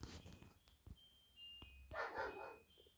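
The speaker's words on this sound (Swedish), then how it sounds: "Nu skäller hunden med" A dog in a home with baby guinea pigs barks a few times, short sharp yaps with brief whimpering between them, faint and somewhat distant against a quiet room.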